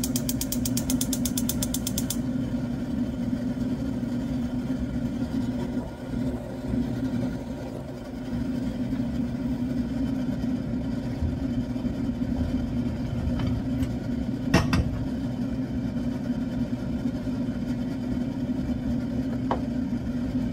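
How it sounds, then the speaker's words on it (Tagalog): Loud, constant droning hum of a noisy kitchen exhaust fan running throughout, steady and close, with a couple of faint clicks and a brief clatter midway. "medyo maingay kasi maingay yung exhaust fan dito"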